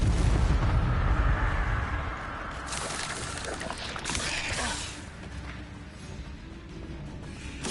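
An Incendio fire spell cast in Hogwarts Legacy, a loud explosive burst with booming rumble at the start that decays into crackling blasts and softer effects, with a voice speaking intermittently.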